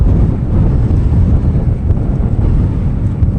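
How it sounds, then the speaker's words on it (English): Strong, steady wind buffets the microphone while cycling through the Oman desert on a bikepacking trip, a loud continuous low roar with no break and no voices. "Now I need to fight against the wind again."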